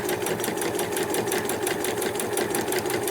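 A sewing machine runs steadily through stay stitching on a sewing roll, its needle beating in a fast, even rhythm with no pauses, close and loud.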